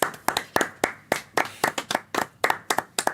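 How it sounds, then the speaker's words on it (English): Sharp hand claps ring out in an uneven, lively rhythm, a small group clapping close by with no talking. "everyone clap"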